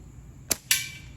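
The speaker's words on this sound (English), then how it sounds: "I'm gonna take another shot here" Two sharp snaps from a titanium slingshot firing shots outdoors, a lighter crack followed a moment later by a louder, brighter one with a short ringing tail, both close and with no voices.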